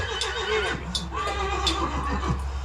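A Belgian draft horse whinnies loudly with rising and falling squeals over steady low background noise, with a few hoof-like knocks.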